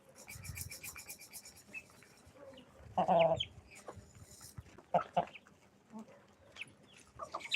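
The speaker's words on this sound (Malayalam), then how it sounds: "ഇതാണ് തൊപ്പി കോഴി" A crested hen clucks in a few short, separated bursts, fairly close, with quiet gaps and soft background noise between the calls.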